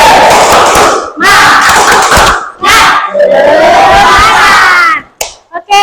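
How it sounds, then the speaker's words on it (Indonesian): A classroom of students performs the tepuk semangat clapping chant, loud group shouts and rhythmic claps heard close, in several bursts with short gaps between them, ending in scattered final claps. "Kita tepuk semangat, silahkan berdiri dulu."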